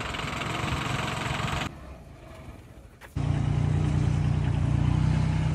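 A tractor engine idles steadily nearby on a dairy farm with Jersey cows, a loud continuous low rumble that drops briefly to a quieter patch before returning at full strength.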